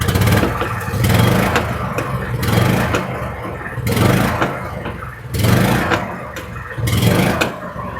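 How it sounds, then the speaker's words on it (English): A Honda side-by-side's engine revs up and down repeatedly as the throttle is pressed after a mixture adjustment, loud and close, with rhythmic surges and dips in pitch and no talk. "when I step on the throttle, it allows the motor to rev up"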